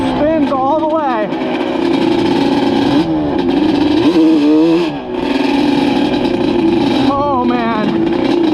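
A Banshee 350 ATV two-stroke engine screams loudly and continuously, revving up and down through the gears on a hole-shot run with wheels spinning, its pitch rising and falling in repeated sweeps with brief dips between shifts.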